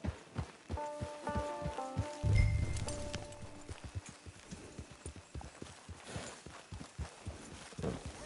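Hooves clip-clop steadily as a horse walks in Red Dead Redemption 2 Online, an even rhythm of close footfalls with a brief snort and music in the background.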